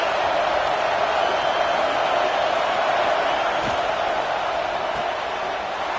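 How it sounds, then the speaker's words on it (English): Steady, dense roar of a college football stadium crowd at a Georgia Tech versus UF game, a continuous wash of cheering and noise holding level throughout with no distinct voices standing out. "This crowd bringing the energy and noise early"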